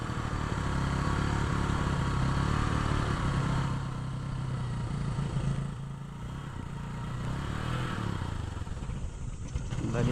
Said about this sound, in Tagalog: Galitin mo yung makina.